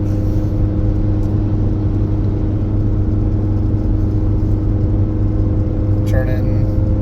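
A Cummins high-output diesel pickup with an Aisin transmission pulls a 12,000-pound camper uphill through the mountains at about 2,700 RPM in third gear, a loud, steady, droning engine rumble heard from inside the cab, with a brief faint chime near the end.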